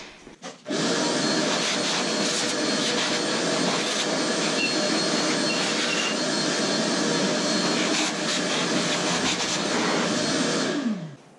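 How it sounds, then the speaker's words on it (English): Vacuum cleaner sucking dirt out of a torn-down LS engine, a loud continuous whine and roar that starts abruptly after a brief moment and holds steady until it cuts off near the end, with no talk. "hopefully that's the last time I have to vacuum the engine out"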